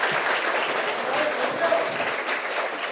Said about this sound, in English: Now, please give a round of applause to invite President Lai to deliver his remarks.